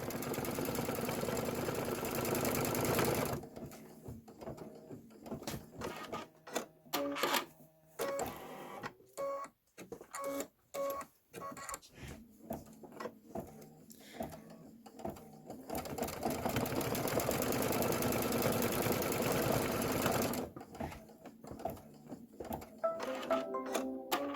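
An embroidery machine stitches a placement outline for black leather tires on a pickup truck design, running in rapid steady bursts that stop and restart, the mechanical chatter loud and close with quiet pauses between runs.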